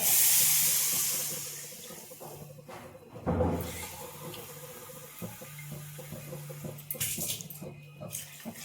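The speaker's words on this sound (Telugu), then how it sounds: "మటన్ ఉడకడానికి కొద్దిగా ఎక్కువ వాటర్ పోసుకోవాలి" Water pours with a rushing hiss into a pot of mutton that fades out, followed by a clank of the pot, quieter kitchen rattles and a brief second splash.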